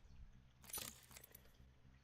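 Computer keyboard and mouse clicks during a gaming headset sound check, a quiet cluster of sharp clicks and rattles near the middle, then a few faint scattered clicks over low hum.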